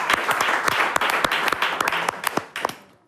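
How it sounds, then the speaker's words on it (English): An audience at a talk on the BuzStopBoys applauds for a civil engineer, a dense round of clapping with sharp individual claps standing out, fading toward the end. "you need a round of applause for that"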